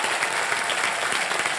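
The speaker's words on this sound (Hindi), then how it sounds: "जोरदार तालियां उनके लिए" Loud, steady applause from a studio audience during a game show, dense clapping sustained without pause and no talking over it, following a live band's performance.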